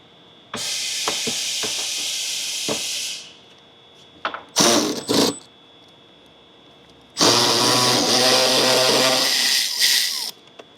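Two 10mm bolts come off the front intake scoop of a 2025 Dodge Ram 6.7L Cummins diesel as a power ratchet buzzes in two loud close bursts, with brief clicks and handling noises between them.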